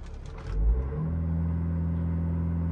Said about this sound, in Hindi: बाहर से थोड़ा इंजन क्लैटरिंग आपको साउंड आएगा